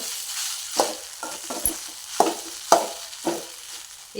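Idli upma is stirred and tossed in a frying pan, a spatula scraping and thumping in several distinct strokes over a soft steady sizzle, close and fairly loud, with no talking.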